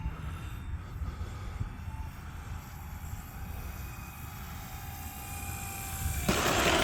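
An E-flite T-28 1.2m electric RC model airplane comes in to land over snow on a wet day, its steady motor whine and rushing airflow holding close and constant before swelling louder at the end.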